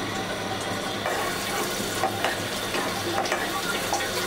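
Chopped onions hit hot oil in a frying pan and sizzle steadily, with an even crackling hiss and occasional stirring scrapes throughout.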